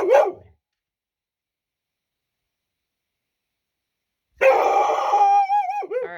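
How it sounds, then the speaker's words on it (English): A dog in an Arkansas forest after dark gives a short bark, then after a long silence lets out a higher, wavering bark-whine, close by. "she's barking at ghosts"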